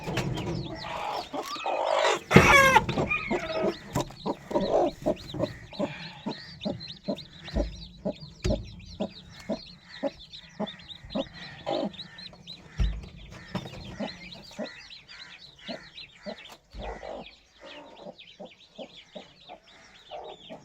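Hens cluck repeatedly in short, rhythmic bursts close by, with a brief louder squawk near the start and steady clucking continuing to the end.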